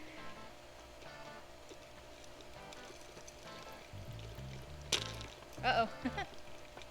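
Popcorn kernels pop inside a Joulle portable electric kettle, a few scattered sharp pops near the end over a steady low hum, with a brief voice exclaiming once.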